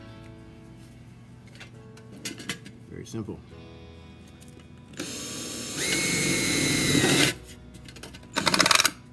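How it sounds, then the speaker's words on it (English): A power drill bores a hole into a piece of wood: a brief spin-up, then a loud, sustained whining grind of about two seconds, followed by a short final burst, with a few quiet words spoken beforehand. "So we're going to drill into that."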